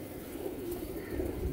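A golden pigeon coos softly, low and close, in a brief murmuring call with no voices over it.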